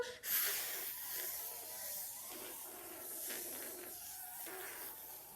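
A group of primary school children imitate a big deflating balloon whizzing around a room, a long wavering chorus of breathy hissing and spluttering that carries on for several seconds at moderate level.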